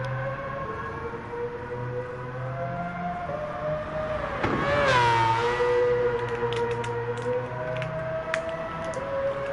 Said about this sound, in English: I'm letting the replay go because I love the sound of this car.